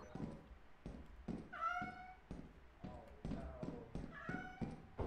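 A cat meows a couple of times amid a steady run of hollow thumping footsteps or taps, with a voice talking faintly underneath.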